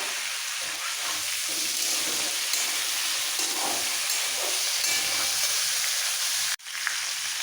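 Vegetables sautéing in a pan with a spoonful of ginger paste for a prawn and katoa stem dish, a broad steady hiss of frying with faint stirring, cutting off sharply near the end.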